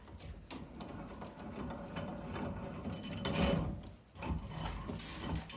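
The worm drive screw of a bench vise with rough, worn threads being turned, giving a steady grinding mechanical rattle with occasional clicks, close and moderately quiet, no talk.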